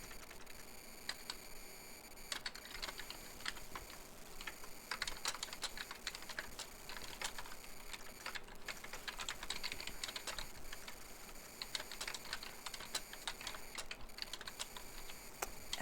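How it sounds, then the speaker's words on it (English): Quiet, continuous typing on a computer keyboard, rapid clicking keystrokes in uneven bursts, close up with no voices. "typing a story in my journal"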